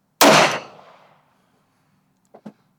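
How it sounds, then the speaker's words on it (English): A Smith & Wesson M&P 2.0 pistol fires a single Winchester 22 WMR 30-grain HV round, a loud sharp crack with a quick decaying echo, followed by two faint small clicks. "Going to shoot a 5-shot group through the chrono."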